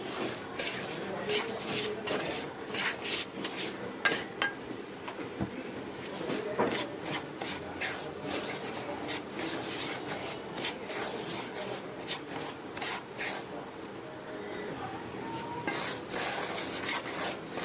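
A utensil stirs semolina roasting in ghee in a pan, producing steady scraping and rubbing strokes with a soft sizzle underneath, continuous and close.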